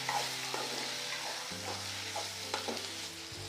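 Chopped onions and tomatoes sauté in a pan for Tamil kara chutney, a steady close sizzle broken by several scraping stirs of a spoon against the pan, with no talking.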